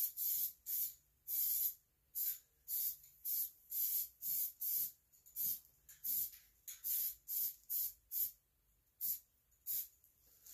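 A second coat of spray paint going onto a 54-inch John Deere Z445 zero-turn mower deck, heard as about twenty short, close hissing bursts separated by brief quiet gaps, with no talking.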